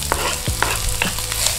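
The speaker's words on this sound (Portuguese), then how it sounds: "Agora vamos deixar dar uma fritadinha aqui para ficar mais gostoso ainda" White onion fries in a hot pan while being stirred, with quick scraping strokes of the spoon rising over a dense, close sizzle throughout.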